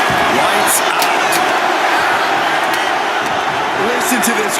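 Arena crowd in the wrestling game WWE 2K25, a steady loud roar of cheering fans filling the venue with whoops on top, while a commentator talks over it.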